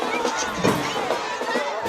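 Crowd noise at a 2018 Jackson Olin vs Helena high school football game: a broad, busy murmur with bursts of cheering, with a voice talking over it.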